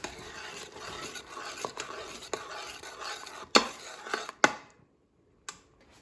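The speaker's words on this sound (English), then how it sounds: "And now stir it." A utensil stirs cherry tomato sauce in an Instant Pot, with soft scraping and several sharp clinks against the metal pot, then a brief quiet pause before one last tap.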